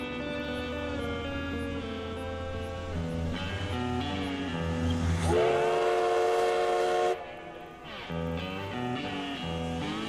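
A steam locomotive's chuffing rumble with a loud, drawn-out multi-tone whistle blowing several times, heard fairly close at a station in Hill City, South Dakota, with no speech.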